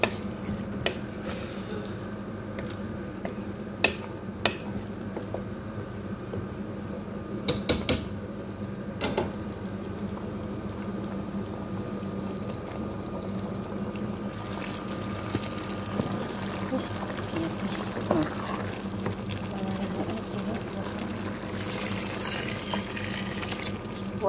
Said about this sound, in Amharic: አሁን ውሃ እንጨምራለን